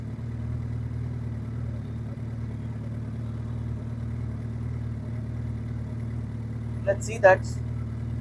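A car engine idles steadily for several minutes after a start, with a radiator fan running, a low constant hum throughout and a brief spoken remark near the end.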